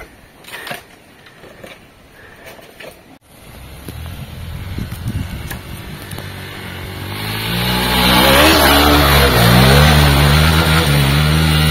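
A Hero Xpulse 200 motorcycle on an off-road trail, running on its stock tire, its engine quiet at first, then revving up and pulling away with rising pitch and strong wind rush, growing loud and close.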